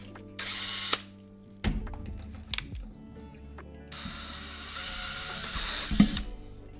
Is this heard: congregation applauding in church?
no